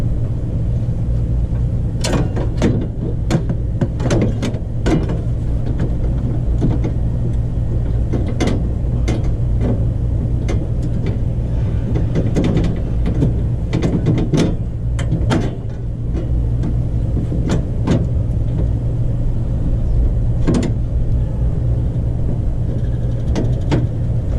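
Ratchet clicks in quick bursts as bolts are tightened on a panel of a Jeep Comanche during a tune-up, sharp close mechanical ticks over a low steady hum.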